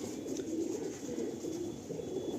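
Soft, low cooing from Lambadi pigeons kept in a loft, a continuous murmuring burble at moderate distance with no one talking.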